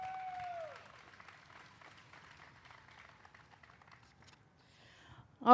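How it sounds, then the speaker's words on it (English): Faint scattered applause from a crowd at a disability pride rally, distant and thin, fading out before a loud burst at the very end. "Give him a round of applause"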